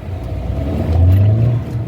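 A Volkswagen car's engine rises in a short revving burst as it accelerates, a close, steady rumble that swells for about a second and then eases back.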